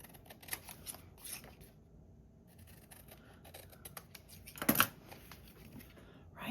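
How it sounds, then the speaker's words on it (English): Scissors cut through paper to trim it just past a drawn border, giving quiet, sparse snips and rustles in a calm room, with one sharper, louder cut near the end. "I am going to cut it off with the hint of the border that I put on there"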